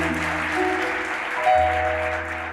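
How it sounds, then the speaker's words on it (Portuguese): A brief burst of studio audience applause on a talk show, steady clapping mixed with some voices and a low hum. "salva de palmas para esse cara que cresceu."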